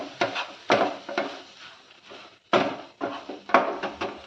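Spinach is stirred with onion chili powder in a pan, producing repeated close scrapes and knocks of the utensil against the cookware in an uneven rhythm, with no talking.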